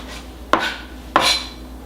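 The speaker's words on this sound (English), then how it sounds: "So we'll get this diced up real quick." A knife dicing a tomato into small chunks for guacamole, heard as two sharp, close chopping strikes about half a second apart, each followed by a brief scraping rattle on the board.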